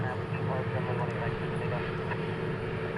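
An Airbus A321neo airliner takes off from Dallas Fort Worth airport with a steady, broad jet roar that stays loud and unbroken throughout, while people talk over it.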